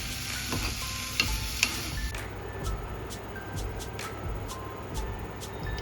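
Vegetables frying in a pan for white sauce pasta, a steady soft sizzle with faint stirring scrapes, a couple of sharper clicks early on and a run of regular high beeps in the background.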